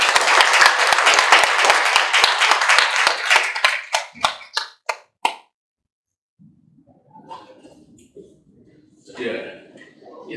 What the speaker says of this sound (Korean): 큰 박수를 부탁드립니다.